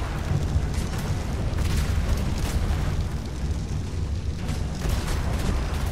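Ship cannons fire during a naval battle in the video game Atlas, booming blasts and rumbling explosions layered over a dense, continuous roar of battle noise with no voices.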